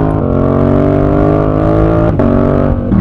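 A Yamaha R7 motorcycle engine revving up close, a loud sustained rasp with steady tones that dip briefly near the end before climbing again.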